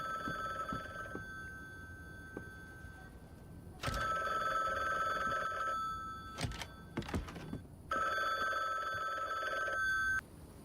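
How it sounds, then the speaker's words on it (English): Three bursts of telephone ringing in the video game Timeless Mansion, each a couple of seconds long with gaps between, quiet and slightly distant, with a few thuds and clunks in the pauses. "How are we surprised that the phone's ringing? The phone always rings after a mission."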